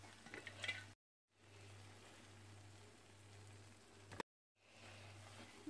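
Kefir pancakes (oladyi) fry in a pan with a soft, faint steady sizzle, broken by two short silent gaps, like a quiet patter of rain.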